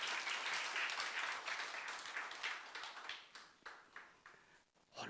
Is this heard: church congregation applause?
yes